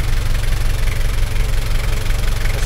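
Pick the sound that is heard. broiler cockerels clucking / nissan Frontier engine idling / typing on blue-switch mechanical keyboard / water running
nissan Frontier engine idling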